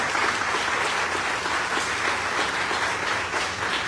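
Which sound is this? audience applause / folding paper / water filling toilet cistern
audience applause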